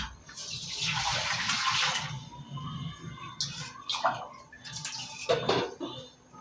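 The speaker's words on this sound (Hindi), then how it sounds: "डाल देती हूँ इसमें पानी" Water is poured into a hot kadhai, first a loud hissing splash and then softer bubbling and sloshing as the pan settles, with no one talking.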